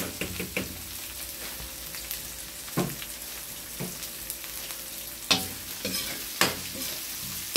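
Garlic and onion fry in a pan for pork igado, a continuous close sizzle broken by sharper scraping stirs of a utensil against the pan, with no talk.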